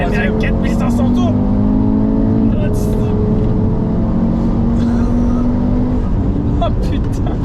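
Audi RS3 stage 3 with a five-cylinder engine running on ethanol, pulling hard in third gear from 4500 rpm, its rising engine tone loud from inside the car while occupants talk over it.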